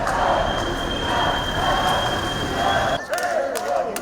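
Protesters at a rally behind the parliament chant and shout as a dense crowd roar, loud and continuous, dropping briefly near the end before voices rise again.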